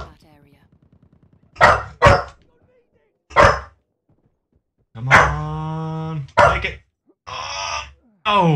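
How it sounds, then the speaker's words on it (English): A dog barking indoors in a room during a Battlefield 1 session, several loud close woofs in uneven bursts with a drawn-out groaning whine between them. "Dog is barking at"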